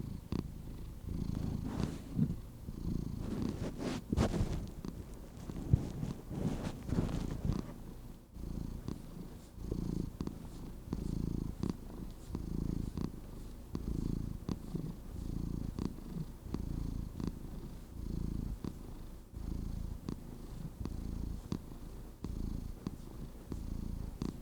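A fluffy cat purrs steadily and close by, a low rhythmic rumble that continues unbroken for the whole stretch.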